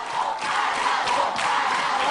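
A TV studio audience on SBT's Astros program applauds and cheers for a singer's performance, a dense, continuous wash of clapping and shouting that stays loud and steady throughout.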